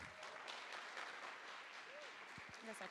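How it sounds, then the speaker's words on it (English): Audience applause at a live conversation event, a steady wash of clapping that stays even throughout, with a voice briefly heard over it. "Can we get one more round of applause for these two?"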